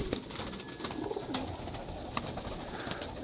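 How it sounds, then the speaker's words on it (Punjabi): Breeder pigeons coo softly in a loft, low repeated calls over a faint background with light rustles and occasional sharp clicks. "ਇਹ ਕਬੂਤਰ ਦੇਖੋ"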